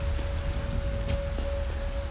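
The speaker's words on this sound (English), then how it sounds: "Why is it raining in the cave?" Steady rain pours inside a cave in the video game Satisfactory, a dense continuous hiss with a faint steady tone underneath.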